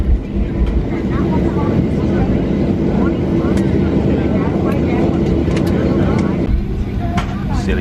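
Airplane cabin during pushback and taxi on a return flight from Ibiza, a loud steady engine drone and rumble continuing through the whole stretch, close and unbroken.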